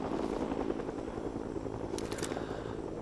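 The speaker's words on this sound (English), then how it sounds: "I hear the helicopter." Helicopter in a video game, a continuous rapid rotor thump under steady engine drone, with a short burst of sharper crackling noise partway through.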